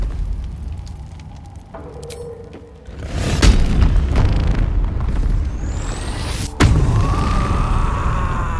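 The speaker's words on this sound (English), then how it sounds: "let's conjure her flaming sword so she can do a bit of fire damage" Flaming sword being conjured in Baldur's Gate 3: a low rumbling build that swells into a sustained fiery roar, then a sharp slam-like burst followed by continuing crackling flame, loud and close.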